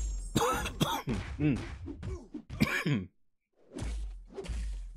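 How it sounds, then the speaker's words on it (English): A man coughs a few times in a dry, hacking way, close to the mic, with a brief pause before two more rough coughs follow. "That dry cough, man."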